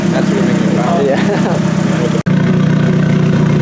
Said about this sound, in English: The exhaust note is definitely improved with that new seal in the wastegate. It sounds a hell of a lot better